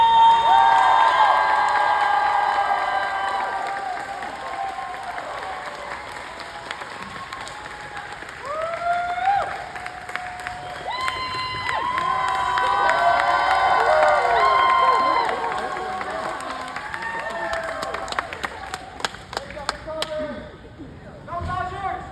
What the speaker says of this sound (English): Give a round of applause for Candice Patton and the fastest man alive, Gustin!